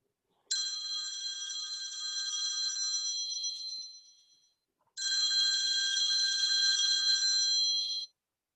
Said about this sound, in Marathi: कप बशा घेणार एवढ्यात फोन वाजतो